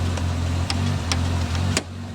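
A 1988 Chevrolet Nova hatchback engine idles unevenly nearby, its low steady rumble broken by dips and faint ticking, with a few sharp clicks riding on top.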